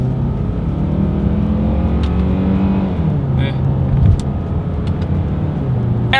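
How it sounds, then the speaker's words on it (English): A 2021 Hyundai Santa Fe SUV accelerating from first gear through paddle-shifted gears, its steady engine drone rising in pitch and then dropping after a shift, heard from inside the cabin with no talk. "we are going to do an acceleration test, a paddle shifter test here together"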